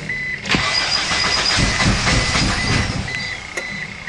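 An Eagle Summit car engine cranks over after a head gasket and compression repair, a steady rhythmic churning starter drone lasting several seconds, close and loud with no talk.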